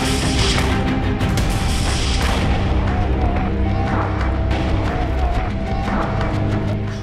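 Ambush attack blowing up an Israeli tank near bushes in war footage: loud, dense booming blasts and sharp impacts run continuously through the whole stretch, heavy and close, with no voices.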